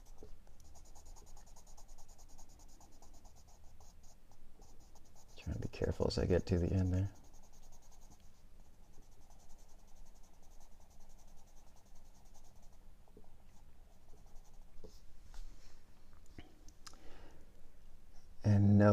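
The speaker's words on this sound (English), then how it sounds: "I'm using more pressure, still the side of my pencil." The side of a pencil shading on paper under heavier pressure, heard as a soft continuous scratchy rasp in strokes close to the mic, with a person talking briefly over it.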